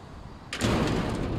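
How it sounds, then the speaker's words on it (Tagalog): A door being shut at home on an overcast day, a single solid thud partway through followed by a steady noisy rush of background sound. "Sasara ko na yung pinto."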